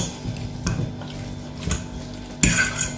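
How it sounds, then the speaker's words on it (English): Seasonings worked into raw chicken in a bowl, with close clinks and scrapes of utensil against the dish and soft wet stirring over a few seconds. "I'm gonna be combining all these seasoning now"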